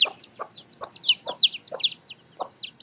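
A little black hen clucks near a chick, giving a series of about seven short, evenly paced clucks close by, with high thin peeping from the chick woven between them.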